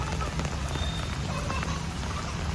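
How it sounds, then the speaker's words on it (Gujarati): Steady rain falls in a garden during a long downpour, a dense continuous hiss of drops on surfaces throughout, fairly loud and close, with no voices over it. "ગાર્ડનમાં આવ્યા છીએ અને વરસાદ ચાલુ છે."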